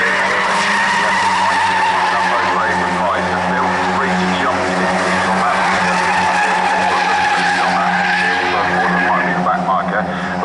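Classic Mini race cars bunch through Quarry corner at Castle Combe, engines revving and tires squealing as the pack passes close, with a commentator talking over the continuous roar.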